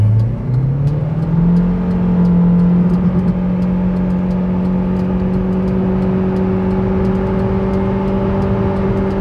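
A 2004 Audi A6 1.8T turbo with a Multitronic transmission accelerates hard from a standstill toward 100 km/h, its engine note rising smoothly and steadily without gear-change breaks, loud and close with no talking.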